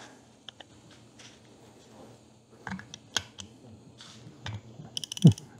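Ratchet loosening a half-inch valve chest bolt: scattered sharp mechanical clicks and short ratcheting bursts, close and fairly faint, growing busier toward the end.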